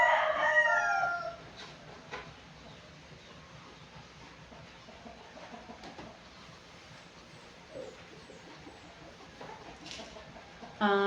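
A rooster crows loudly at the start, then distant chickens and faint background rumble continue through a long, mostly quiet stretch.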